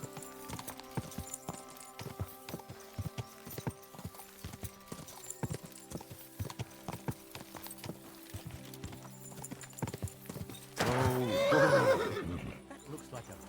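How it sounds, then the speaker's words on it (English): Rhythmic hoofbeats clop along steadily for several seconds, then a horse lets out a loud, shrill whinny near the end, in Kingdom Come: Deliverance II. "That looks like a bloody expensive horse."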